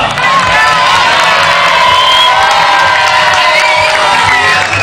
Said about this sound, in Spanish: Quien quiera aplaudir, que aplauda ahora.